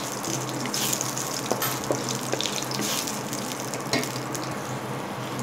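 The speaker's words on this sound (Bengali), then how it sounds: "এইবারে ভালো করে ফ্রাই করে নেব যতক্ষণ না সুগন্ধ বেরাচ্ছে" Dried chili, nigella seeds and panch phoron spluttering in hot oil while the spice base for an aloo torkari fries. A steady, close sizzle runs throughout, with a few sharp pops rising out of it and no voices.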